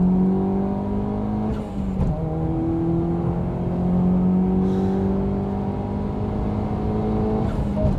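A tuned Stage 1 Peugeot 207 GTI accelerates hard through its gears, the engine note climbing in pitch and dropping briefly at each shift, loud and close from inside the car, with no talk.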